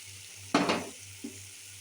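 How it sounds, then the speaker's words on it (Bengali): Vegetables with a splash of vinegar being sautéed in a pan for chilli paneer, with one brief burst of sizzling and stirring, then a smaller second sizzle over a quiet background. "দিয়ে আমি একটু এগুলোকে হালকা করে কষিয়ে নেব।"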